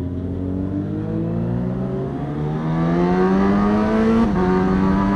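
A Honda CB1000 Hornet SP motorcycle accelerates hard on a highway, its engine note climbing steadily in pitch with a brief dip at a gear change near the end, loud and continuous with wind rush and no talk.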